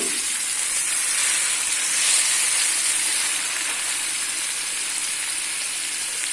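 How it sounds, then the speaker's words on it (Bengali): Beef steaks fry in a little oil, giving a steady, bright hiss and sizzle that holds evenly throughout. "এখন আমি স্টেকগুলোকে ভাজবো অল্প তেলের মধ্যে"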